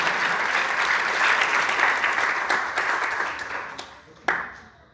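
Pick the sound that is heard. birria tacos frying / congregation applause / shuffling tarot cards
congregation applause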